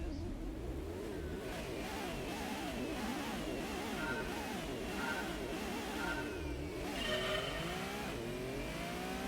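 Race car engines in the original Gran Turismo video game, a steady droning roar with repeated rising and falling revs as cars shift through gears, several machines close together, with no talking.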